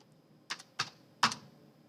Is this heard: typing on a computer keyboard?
yes